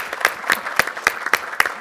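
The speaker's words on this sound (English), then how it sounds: "let's give all of you a round of applause because this was awesome" Audience at a wildlife corridor summit giving a round of applause, sparse and fairly close claps with a few distinct sharp hits standing out in a loose, regular rhythm.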